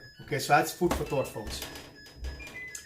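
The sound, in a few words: clothes dryer beeping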